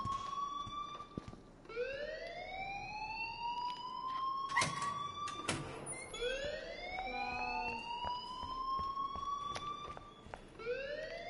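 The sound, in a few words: fire alarm ringing in video game Life Is Strange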